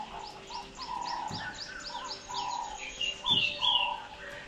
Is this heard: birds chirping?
yes